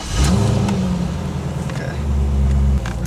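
A 2002 Chevrolet Corvette C5 Z06 V8 engine heard up close, a loud steady rumbling idle that swells briefly into a rev, with a single short spoken word at the start.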